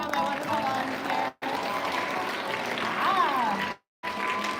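Audience clapping for volunteers after a lyrical theater performance, a steady moderate round of applause broken by two brief silent cuts, with a faint whistle-like tone rising through it near the end.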